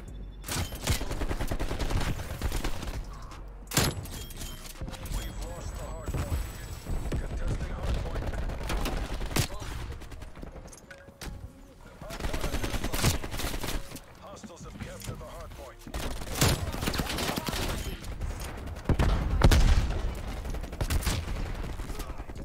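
Rapid gunfire from a Black Ops Cold War Hardpoint match, dense bursts of automatic shots and explosions filling the scene almost continuously, with a player's voice talking over the shooting.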